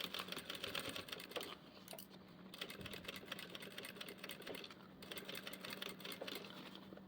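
A sewing machine stitches fabric in a dressmaking atelier, a steady close whirring run that pauses briefly a few times before starting up again.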